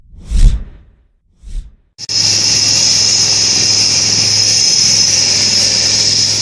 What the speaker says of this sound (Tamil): ராமநாதபுரம் மாவட்டம் உச்சப்புள்ளி அருகே உள்ள INS பருந்து கடற்படை தளத்தில் முற்றிலும் உள்நாட்டு தயாரிக்கப்பட்ட 2 MK3 ஹெலிகாப்டர்கள் கடற்படையில் இணைக்கப்பட்டன